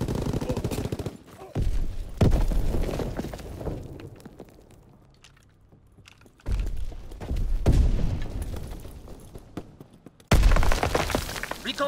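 Bombs explode in Call of Duty: WWII, heavy roaring blasts that hit in several loud waves with rumbling tails and quieter gaps between, close and harsh, with a brief game voice line.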